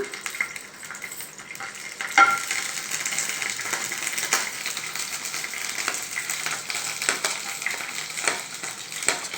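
Curry leaves frying in hot oil in a pan, giving a steady loud sizzle and crackle with occasional sharper pops and stirring scrapes throughout.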